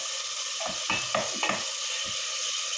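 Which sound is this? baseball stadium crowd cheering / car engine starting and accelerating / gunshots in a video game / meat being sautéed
meat being sautéed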